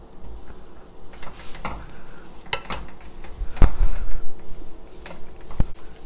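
Flour being roasted in ghee in a pot over medium heat for maida halwa, with a spoon scraping and clinking against the metal in irregular knocks and scrapes, fairly close and with no talking.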